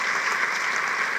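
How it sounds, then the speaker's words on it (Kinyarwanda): A crowd at a women's gathering breaks into a short, dense burst of applause, loud and even throughout. "Ushatse wakoma amashyi n'igihe umuturage."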